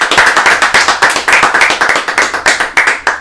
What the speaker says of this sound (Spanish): Un aplauso para Elia Ruiz.